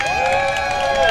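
A crowd claps and cheers in a short burst, with voices and excited shouts mixed into the applause.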